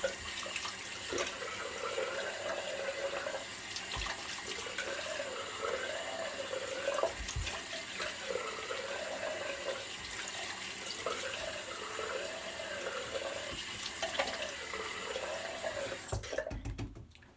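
A running water tap rinses a Gillette 195 adjustable safety razor at a sink, a steady close stream with splashing variations as the razor passes under it, ending in louder clattering splashes near the end, with no talking.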